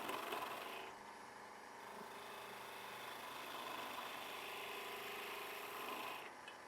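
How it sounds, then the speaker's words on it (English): A wood lathe spins steadily while a turning tool slices into the rotating wood, a continuous hum with a sustained hissing cut that swells and eases, heard close and fairly quiet with no talk. "peeling the wood rather than scraping it or slicing it like I am here."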